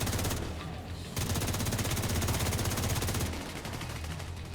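Rapid automatic gunfire in the video game The Division 2, sustained bursts of fast, evenly spaced shots with a brief break, fairly loud and close, with no voices.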